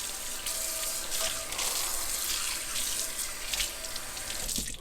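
Clear tap water runs steadily over a cast iron skillet being rinsed in a sink, a continuous close splashing hiss with slight fluctuations as the pan is moved under the stream.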